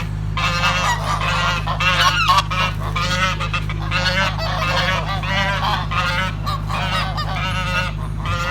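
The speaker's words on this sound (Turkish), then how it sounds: "Korumacı kazlar." A flock of geese honks loudly and continuously, many overlapping calls close by over a steady low hum.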